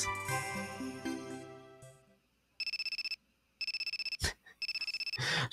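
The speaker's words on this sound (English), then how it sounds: "Is that just like a home phone?" Telephone ringing in a 90s anime-style FMV video game, a tinkling jingle giving way to repeated electronic trilling rings in three bursts, clear and up close with no voices.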